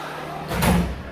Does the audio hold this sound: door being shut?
yes